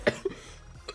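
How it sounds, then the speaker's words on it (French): A single sharp cough, close and fairly quiet, is followed by a fainter second cough near the end of the short moment. "Je tousse sa mère."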